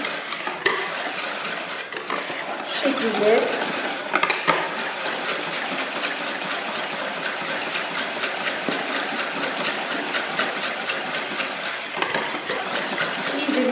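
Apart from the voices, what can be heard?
hand mixer whipping cream in bowl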